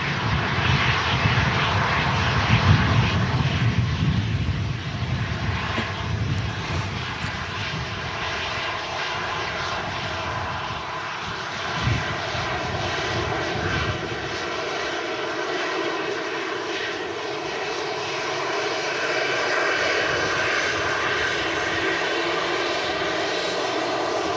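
EasyJet airliner engines roar steadily at windy Manchester Airport, a broad loud rumble that stays continuous throughout with little change, heard from the ground with no talking.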